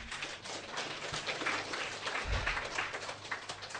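A seated audience at a talk claps together in a dense, continuous burst of applause that holds at an even level throughout.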